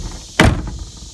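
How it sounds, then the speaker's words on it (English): A single solid thud as the door of an old junkyard car swings shut, heavy and close, followed by a brief ringing tail. "the door's closed like it's a new one"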